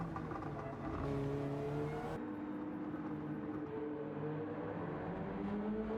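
The Subaru BRZ race car in Gran Turismo 7 holds a steady, fairly quiet engine drone with sustained tones that shift slightly in pitch as it runs through a track race.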